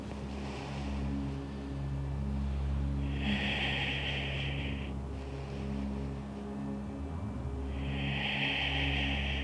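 Deep breathing in a yoga forward fold at an early-morning session: two long, airy exhales stand out close over a low steady rumble, with quieter breaths in between.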